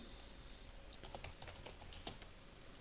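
Quiet, irregular keystrokes on a computer keyboard, a run of soft clicks and taps at a steady typing pace in a calm room, with no voices.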